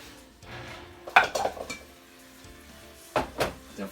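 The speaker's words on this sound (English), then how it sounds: "and definitely flip all the bones over" Beef bones are flipped in a pressure cooker pot with a couple of loud metallic clanks and knocks, a soft sizzle running underneath, close up and without speech.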